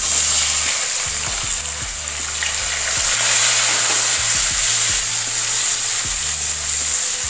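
Chopped onions sizzle steadily in melted butter in a pan for butter chicken, a loud continuous hiss broken by repeated scraping stirs of a spatula.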